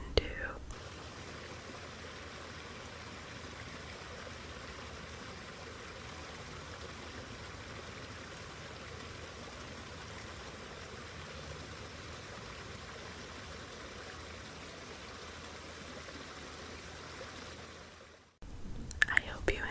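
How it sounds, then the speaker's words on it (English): A small waterfall in the China pavilion at Epcot pours in a steady, even wash of falling water for about eighteen seconds, with no voices, before it cuts off abruptly and a brief burst of other sound follows. "there's this little waterfall I want you to listen to"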